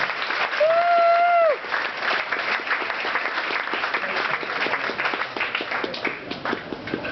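A comedy club audience at Helium bursts into applause after a stand-up set, a sharp whistle rising above the start before steady, dense clapping carries on for several seconds without talk.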